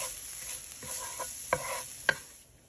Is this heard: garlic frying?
yes